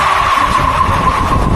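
The tires of a Fengyun T8 electric car, size 235, spin and smoke on launch, making a loud, continuous scrubbing roar with a sustained squeal running through it and no pauses.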